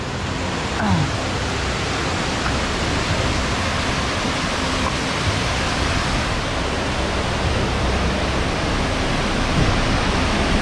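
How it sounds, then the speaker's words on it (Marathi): Steady, loud rush of water from Savatkada waterfall in the Konkan region, a broadband roar that holds constant and close throughout with no pauses. "हे बघा हे धबधब्याचं पाणी आता इकडे आलंय मित्रांनो हा धबधबा एकदम नॅचरल आहे"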